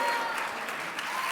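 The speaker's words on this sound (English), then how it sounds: "How about a round of applause for our chapter 1 readers?" Congregation applauding readers of a Megillah chapter on Erev Purim, a steady burst of clapping from a room of people, moderately near throughout.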